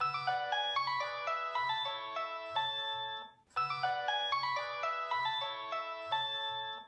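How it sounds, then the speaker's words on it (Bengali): Mobile phone ringtone playing a bright melodic tune that repeats twice with a short gap between rounds, clear and steady with no talking over it. "তোমার ফোন বাজে।"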